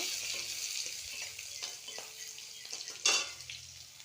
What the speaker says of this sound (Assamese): কেঁচা জলকীয়া, শুকান জলকীয়া, তেজপাতখিনি অকণমান লৰাই ল'ম।